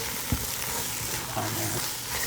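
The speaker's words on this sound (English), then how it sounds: "So we're just adding in that nice sausage there." Sausage dropped into a hot frying pan, giving a steady broadband sizzle that holds throughout, with a soft clunk near the start and faint kitchen movement underneath.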